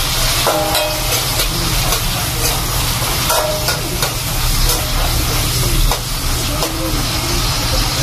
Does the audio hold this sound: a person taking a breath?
no